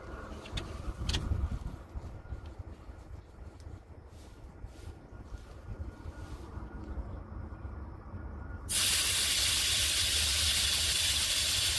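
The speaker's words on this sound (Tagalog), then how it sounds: "Pero bago ang lahat, i-deflate muna natin itong gulong." Air hisses out of a deflating tire, a broad steady rush that starts abruptly and grows loud, after a quieter stretch of low rumbling background.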